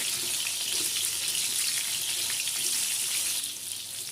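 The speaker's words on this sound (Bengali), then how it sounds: "লবণ দিয়ে পটলগুলোকে ভেজে নেব" Pointed gourd pieces fry in hot oil with salt, making a steady, close, bright hissing sizzle that runs throughout and eases slightly at the end.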